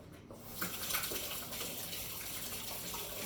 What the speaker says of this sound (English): Now I need to just quickly wash my hands.